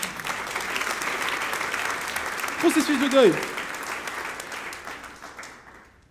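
A crowd applauds steadily through a talk about grieving, the clapping holding a fairly even level and fading toward the end, with a voice briefly speaking over it partway through.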